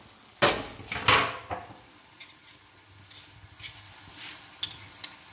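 Boiled potatoes with tomatoes and salt are stirred in a hot pan, giving a few loud scraping strokes at the start, then softer intermittent scrapes and clinks over a faint sizzle.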